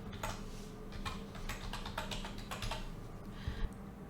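Keys on a computer keyboard are tapped in quick, uneven bursts while a title is entered in PowerPoint, close and clear with no speech.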